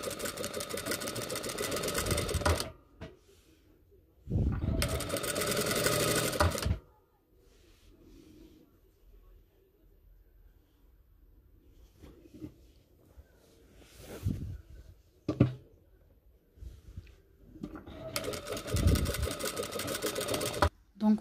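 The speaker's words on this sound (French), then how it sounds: "Et je vais faire une couture ici, tout au bord." A sewing machine runs a seam close along the edge of a khimar in three bursts of rapid mechanical whirring, with quiet handling of fabric and a voice heard in the pauses between bursts.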